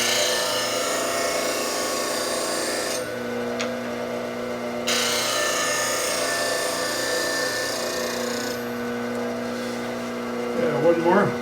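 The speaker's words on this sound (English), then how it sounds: "Pivot into the grinder, it's looking good." A grinder hums steadily as a woodworking blade is pressed against it for sharpening, a continuous tonal whine with a light grinding rasp that shifts as the blade is repositioned, close and moderately loud.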